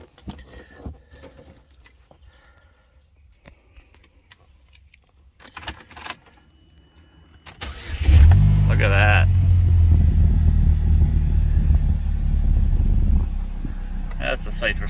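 After some keys jangle and faint shuffling, a 2006 Pontiac Solstice engine cranks and fires at about eight seconds. It settles into a loud, steady, close idle with a low rumble, and brief speech comes over the top.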